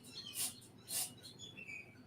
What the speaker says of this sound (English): No, I do hear some birds in the background.